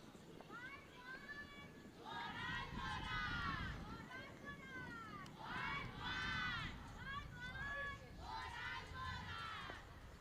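Young women of the Mozambique U-19 team shout and chant from the sidelines at a cricket qualifier in Entebbe, with three rising bursts of high, excited cheering over a busy crowd murmur and talk.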